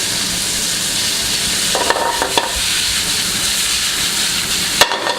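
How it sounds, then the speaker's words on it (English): Spätzle frying in butter in a pan give a steady, close sizzle with brief stirring and scraping noises partway through and a sharp clink near the end. "Just add some of them into the pan, fry them up nicely."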